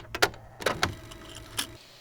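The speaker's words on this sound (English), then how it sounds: "It's kind of like a cassette entering a tape deck" A cassette slots into a tape deck, used as a music production sample: a few sharp plastic clicks and clunks in quick succession, close and fairly quiet, followed by a final lighter click.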